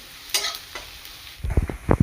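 Onions and tomatoes frying in a pan for mutton curry, heard as a soft sizzle broken by a few sharp, close stirring scrapes and knocks within about two seconds.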